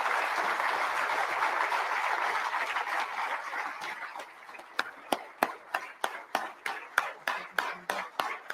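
An audience applauds a founder and chairman's birthday greeting, a dense, sustained wash of clapping that after about four seconds settles into loud, rhythmic unison claps at a steady beat, with no talk over it.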